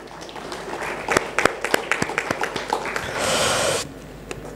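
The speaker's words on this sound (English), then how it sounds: "can we have a huge round of applause for yourself?" An audience at an education leadership summit claps in a loose, scattered way with sharp individual claps, then a short burst of denser applause swells briefly and stops, leaving a few stray claps afterward.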